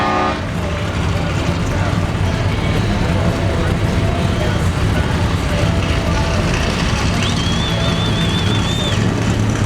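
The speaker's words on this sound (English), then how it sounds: "Full-on track-tested race Camaro coming through." A track-tested race Camaro rolls past at the SEMA Cruise, with a loud, continuous engine roar over dense crowd and traffic noise and a brief horn-like toot near the end.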